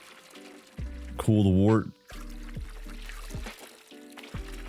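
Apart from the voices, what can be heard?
liquid being poured into a pot in Brewmaster video game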